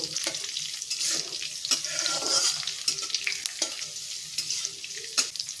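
Green chillies and curry leaves sizzle and crackle in hot oil, with steady frying hiss and a few sharp pops, close and fairly loud.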